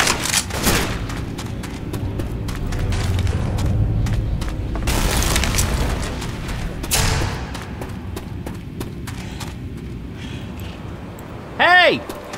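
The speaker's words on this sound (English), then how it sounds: "Pipe bomb out." A pipe bomb goes off in Left 4 Dead 2 amid gunfire, with heavy booms and thuds mixed with rapid shots, loud and chaotic, and voices talking over the action.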